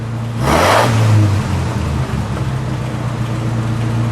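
A 1936 Packard Super 8 straight-eight engine idles steadily with one brief rev near the start, a low rumble that settles back to a smooth idle, no talking.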